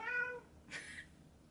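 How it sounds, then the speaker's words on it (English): A single clear, close cat meow with a rising tonal call, followed by a brief softer breathy sound, in a quiet indoor room. "She's a very vocal cat."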